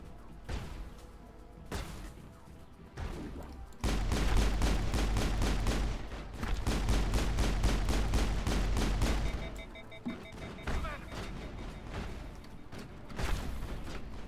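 Gunfire in the Mass Effect video game comes as loud bursts of rapid automatic shots separated by short quieter gaps, with scattered single shots toward the end.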